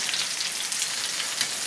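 Prosciutto-wrapped chicken breasts sizzle and crackle steadily in a hot frying pan, a dense, even hiss with no voices.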